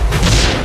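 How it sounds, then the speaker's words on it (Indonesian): Explosion effect from an Alien film, a short loud deep boom with a broad rumbling blast filling the whole moment. "Untungnya Ripley berhasil meledakkan alien itu."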